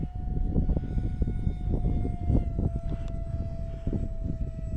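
A Habu 50mm electric ducted-fan RC jet running on a 3S battery takes off and flies, giving a steady, loud, high-pitched fan whine with a sustained tonal hum and fluctuating rumble throughout.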